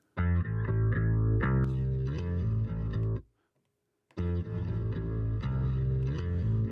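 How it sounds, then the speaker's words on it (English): Sustained, effect-processed instrumental chords run through a reverb in the Pro Tools Sketch app on an iPad. Two loud, dense phrases are split by a second of near silence, with no talking. "We've got a reverb down here."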